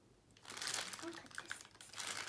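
Plastic packaging for Pampered Chef kitchen tongs crinkles and rustles in close bursts as it is pulled open, with a few sharper crackles; a person talks briefly nearby.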